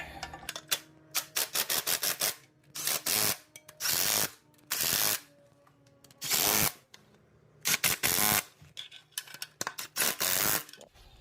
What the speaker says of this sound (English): And then we're gonna be torque this thing to spec. I believe this is 25 foot-pounds. All these nuts.